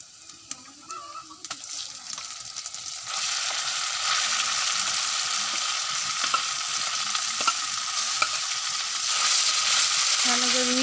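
Mashed greens bhorta goes into hot oil and is stirred as it fries, starting quieter then settling into a loud, continuous close sizzle with scraping stir sounds.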